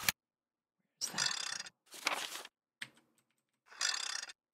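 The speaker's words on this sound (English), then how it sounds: "Typewriter, typewriter." Typewriter keys clacking in the Resident Evil video game, in several short bursts of rapid typing separated by brief silences.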